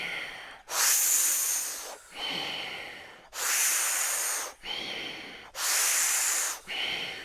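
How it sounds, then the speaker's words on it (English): Rapid, forceful breathing drawn in through the mouth and pushed out through the nose, loud close breaths repeating in a strong rhythm with short gaps between them. "you're going to inhale mouth, exhale nose."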